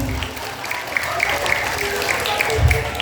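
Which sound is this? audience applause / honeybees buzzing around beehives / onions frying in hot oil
audience applause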